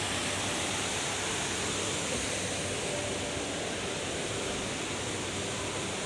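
Continuous broadband rushing of falling water from the indoor Jewel waterfall in Singapore, steady and even throughout with no voices, heard from nearby.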